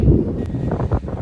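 Strong gusty wind buffeting outdoors during a windy basketball game in Ireland, a loud, continuous low roar with rumbling gusts, heard close and alone.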